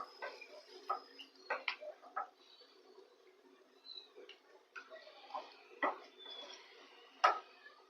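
Green hariyali chicken gravy stirred in a pot after water is added, giving scattered light clicks and scrapes against the pot at an uneven pace, fairly quiet with no voices.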